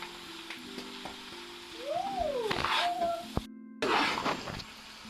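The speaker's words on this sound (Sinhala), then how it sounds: "අපි දැන් හදාගත්තු සෝස් ටික එකතු කරමු. එකතු කරලා හොඳට කලවම් කරන්න." Prepared sauce is stirred into chicken chow mein noodles frying in a pan. Loud crackling sizzle and utensil scrapes come with a few squeaky tonal squeals and one brief dropout, then the sizzle surges back.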